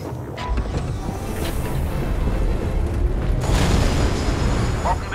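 Explosions rumble in the Star Wars Battlefront 2 game as a space station blows apart, a dense, roaring low boom that swells and holds steady with a bright crackle, while a voice talks in the background.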